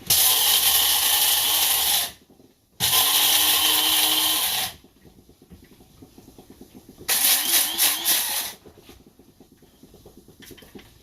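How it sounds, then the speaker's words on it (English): An electric coffee grinder whirs loudly through Safeway single-origin beans in three close bursts of about two, two and one and a half seconds, separated by short pauses and quieter handling noise. "So we're gonna grind."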